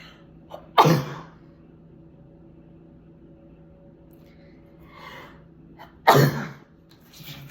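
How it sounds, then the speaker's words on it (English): Two sharp, close sneezes about five seconds apart, with quiet background hum between them. "oh my God, I'm gonna sneeze."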